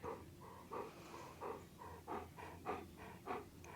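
A dog pants heavily nearby during a quiet yoga session, with rhythmic breaths about every half second, soft and steady with no talk.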